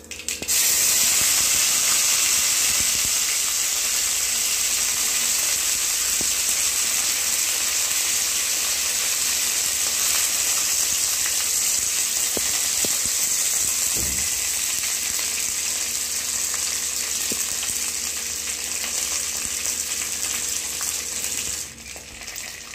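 Loud, constant sizzling and crackling of curry leaves frying in hot oil, a dense hiss that carries on steadily for the whole stretch.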